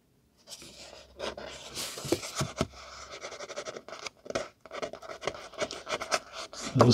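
Scraping at a mark on a vintage Parker pen during cleaning gives close, quiet, irregular scratchy strokes with short pauses and small handling clicks.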